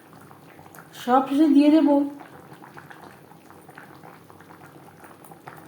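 A vegetarian curry of potato, pointed gourd and soybean chunks simmers in gravy with a soft, continuous low bubbling; a voice speaks briefly over it early on, then the quiet bubbling continues alone.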